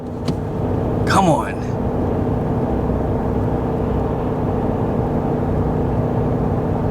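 A 2026 Ram truck engine drones steadily while towing a trailer up a 6% grade, a constant close low rumble inside the cab with a brief voice and a short whistling tone early on.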